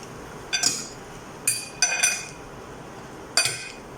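Salad vegetables being tossed with dressing in a bowl, giving a few sharp clinks of utensils against the dish in separate bursts, close and fairly quiet with no talking.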